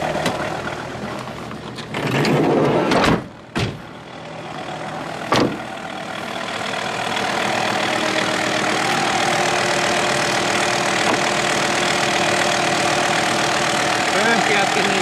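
A rally car's engine idles steadily at close range, a continuous rumbling drone, with a few brief louder knocks and handling noises in the first seconds before the idle settles and runs on alone.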